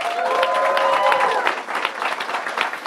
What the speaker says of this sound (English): Let's give another round of applause for Samia, Nelly, and Munir.